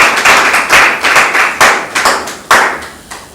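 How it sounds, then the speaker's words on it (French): A crowd applauds at a French-speaking church gathering, a burst of hand claps of uneven rhythm that swells and fades in waves, loud and close throughout with no voices over it. "Acclame pour les journalistes"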